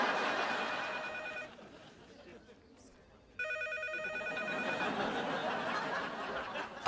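A telephone rings in an office-like sitcom scene with a studio audience, two bursts of a bright electronic ring separated by a short pause, heard over crowd murmur and laughter.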